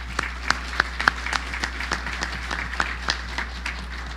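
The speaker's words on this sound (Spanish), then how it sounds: "por favor, un buen aplauso." Scattered clapping from a small audience at a Spanish-language medical meeting on emergency abdominal CT, honoring two radiologists, with sparse, uneven claps over a steady low electrical hum.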